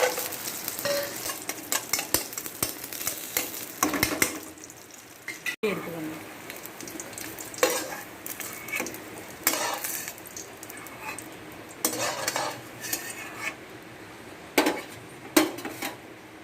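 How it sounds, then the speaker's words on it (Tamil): Cashews and raisins fry in a pan for semiya payasam, stirred with a spoon that scrapes and clinks against the metal over a soft steady sizzle, with intermittent close clatter throughout. "இப்போ வந்து அண்டி பருப்பு சேர்த்துக்கலாம் கிஸ்மிஸ் பழத்தை சேர்த்துக்கலாம்"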